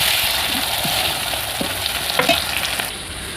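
Garlic and tomato fry in a hot pan with a dense, continuous sizzling hiss, punctuated by a few soft stirring scrapes, close and fairly loud.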